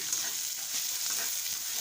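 Onion and garlic fry in mustard oil with dry chili and five-spice seeds in a wok, giving a continuous close, hissing sizzle with no voices.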